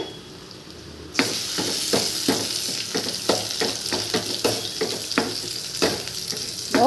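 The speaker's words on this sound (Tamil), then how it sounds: "பூண்டு சிறு பொன்னிறமாக ஆகட்டும் அப்போது நம்ம தாளிப்பு வேலை முடிஞ்சுது" Garlic frying in tempering oil for a Brazilian spinach kootu, a bright crackling sizzle that bursts in after a quiet second, with repeated stirring scrapes, close and steady.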